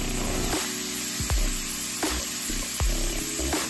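Pepper steak sizzles in olive oil in a pan, a steady close hiss broken by several sharp clanks and scrapes from stirring, with no talking.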